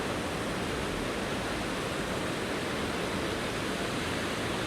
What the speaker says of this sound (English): I can hear that water now. And I think it's the River Sheppey.